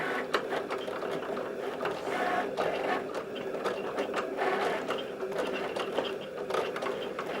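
A Cricut machine cuts vinyl on a mat with soft whirring motor runs and quick clicking carriage movements, fairly quiet and close, with a voice speaking now and then.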